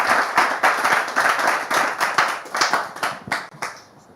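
Studio audience on a French talk show clapping to welcome guests, loud applause with distinct individual hand claps that thins out and tapers toward the end.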